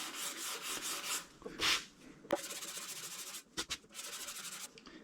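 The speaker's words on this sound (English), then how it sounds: "I'm just going to start sanding." Gray primer on a gas tank is sanded with 400 grit paper on a foam block, giving soft rhythmic rasping strokes with short pauses between them, close and quiet.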